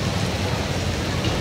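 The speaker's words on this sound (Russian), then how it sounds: "идет дождь." Summer rain falling outdoors during a storm with lightning, a steady, even hiss of drops close by with a low rumble underneath and no voices.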